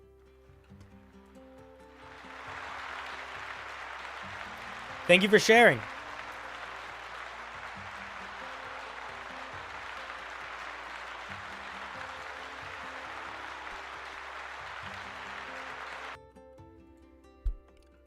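A round of applause from a live-stream audience of a D&D homebrew review show: a dense, steady wash of clapping that holds for about fourteen seconds, then stops abruptly. A short spoken phrase comes first, and a louder burst sits midway.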